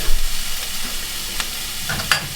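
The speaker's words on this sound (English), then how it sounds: "now we're going to pop our cilantro or coriander leaves. Oh, in fact these are just the stems." Chopped coriander stems hit a hot pan and sizzle with a moderate crackling hiss, marked by a few sharp stirring clicks and scrapes and no speech.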